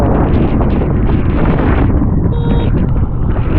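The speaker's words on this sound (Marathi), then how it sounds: "वारं नाही सुटलंय गाडी स्ट्रगल करायला लागली" Strong wind roars and buffets the microphone on a mountain road near Mussoorie in cold, rainy weather, a loud continuous rush that briefly carries a faint tonal whine.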